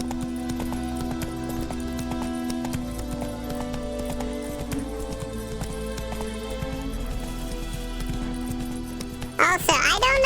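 Roach, the summoned horse in The Witcher video game, comes up with rhythmic clip-clop hoofbeats over layered game music, then a short, sharp whinny near the end.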